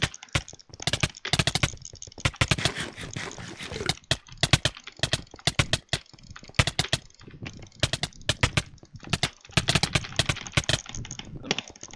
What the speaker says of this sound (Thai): ผมบัตเตอร์ไฟคลิกกดแรงแล้วนะ คืออันนี้ผมใช้เมาส์ของ Logitech นะครับ